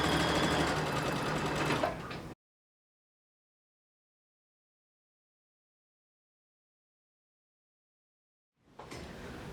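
Sewing machine stitching shirt fabric, a steady mechanical whir for about two seconds before cutting to silence, then starting up again near the end.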